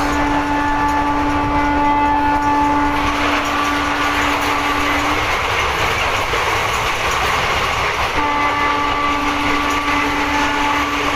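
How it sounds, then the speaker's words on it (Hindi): An Indian express train rolling along while overtaking the Gwalior–Indore intercity express, a loud continuous rumble of wheels and rails with a steady electric whine that drops out briefly and then returns. "हम ओवरटेक करने वाले हैं ग्वालियर इंदौर ग्वालियर इंटरसिटी एक्सप्रेस"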